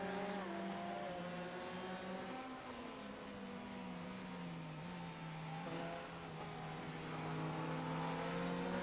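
A few race cars lap the Styrian track in a one-hour sim racing sprint championship, engine notes droning and shifting pitch steadily, fairly close and continuous throughout.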